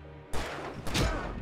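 Gunfire in the video game Alan Wake Remastered, two loud close shots about half a second apart, each with a broad crack and a reverberant tail.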